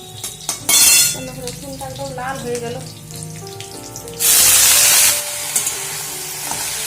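Bitter gourd fries in a little oil. Two loud bursts of hissing sizzle rise over quieter clatter from the pan, and a voice talks briefly in between.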